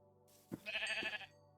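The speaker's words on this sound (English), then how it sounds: "Oh, I heard sheep." A Minecraft sheep gives a single short, wavering bleat, fairly faint, over a quiet low game hum.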